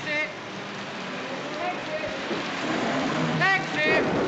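Steady rain hiss falls outside a theatre at night, with the wash of street traffic running continuously underneath and a few brief voices calling out briefly near the end.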